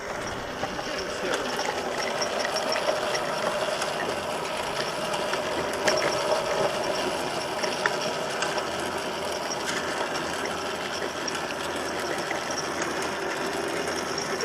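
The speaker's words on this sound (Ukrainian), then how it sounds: "Далі ми її фіксуємо іншою ручкою включився двигун" A small electric cultivator motor runs steadily with a continuous whirring, mechanical rattle, close and even throughout.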